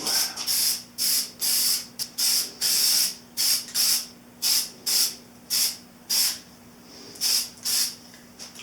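Spray gun applying white paint to the front fender of a 1983 Honda CB1000 custom motorcycle, heard as about fifteen short hissing bursts in an irregular rhythm, loud and close, with a faint steady hum underneath and no talk.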